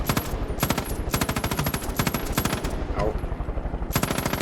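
Rapid automatic gunfire from Far Cry 5 co-op play, bursts of dense, sharp shots repeating across the whole stretch with a short lull near the end, a brief exclamation from a player mixed in.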